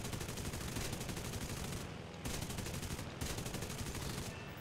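Aircraft machine guns firing in the flight combat game War Thunder, heard as dense, continuous rapid bursts in two or three long strings with brief pauses between them.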